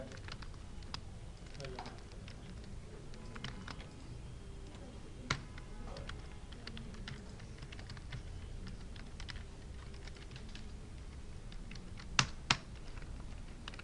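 Quick, light typing on a computer keyboard during web design coding work, steady soft key clicks with a couple of sharper taps near the end, heard close and quiet, with faint background speech.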